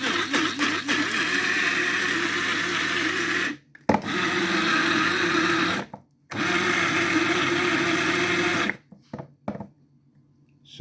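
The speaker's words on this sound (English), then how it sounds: "So you grind the prawns, okay?" A blender grinds dried prawns for shito in a loud, steady whirring roar that runs in three long bursts separated by brief pauses, then stops, leaving faint kitchen noise.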